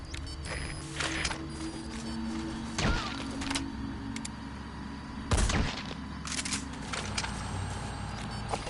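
Gunfire in Metal Gear Solid 5, scattered sharp gunshots cracking out over a constant mechanical background, several loud reports spaced irregularly over a few seconds.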